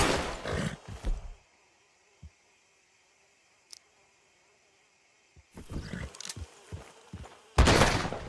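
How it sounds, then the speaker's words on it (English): A LeMat revolver's shotgun round fired at a tree in Red Dead Redemption 2, heard as a loud, sharp blast that decays into a long quiet hum of ambience, with further sharp impacts and rustling coming in later. "Shotgun round, let's shoot that tree."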